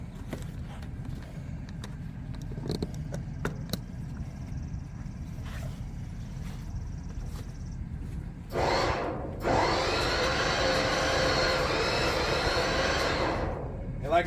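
A vehicle engine pulls an RV up onto a wobble wheel for double-loading transport, first as a low rumble under background noise, then swelling into a loud, steady broadband roar that holds for several seconds before dropping off.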